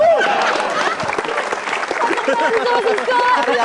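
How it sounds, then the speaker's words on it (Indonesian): Loud audience applause at a stand-up comedy show, with cheering and shouting voices mixed in, a dense steady burst of clapping from a crowd. "Tepuk tangan untuk Semi Ratus Limboy"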